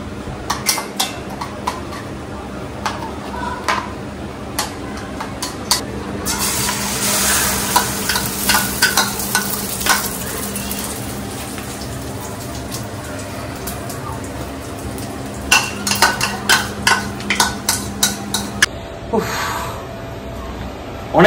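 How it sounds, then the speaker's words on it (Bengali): An egg omelette frying in a wok, a steady sizzle with frequent metallic scraping and clinks of a spatula against the pan, close and fairly loud, with people talking intermittently. "ডিম ভাজার দায়িত্ব নিয়েছেন বাবা"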